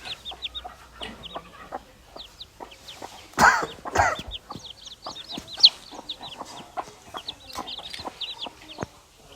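Free-range country hens on a small farm give repeated short clucks and squawks at close range, with occasional louder bursts, and no talking.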